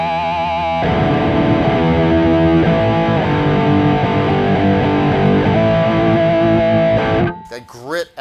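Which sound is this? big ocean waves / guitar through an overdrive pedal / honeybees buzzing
guitar through an overdrive pedal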